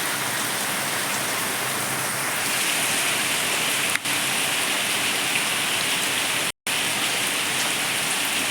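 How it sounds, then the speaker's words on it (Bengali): Heavy rain pours down steadily outdoors, a dense, loud, unbroken hiss of water striking surfaces, with one brief dropout near the end. "দেখুন প্রচুর বৃষ্টি হচ্ছে।"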